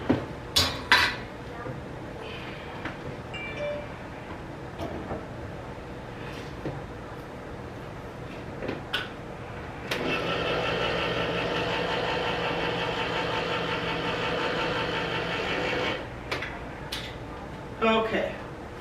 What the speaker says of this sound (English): Get my can opener.